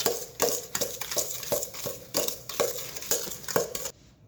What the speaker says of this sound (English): So now I'm going to mix this together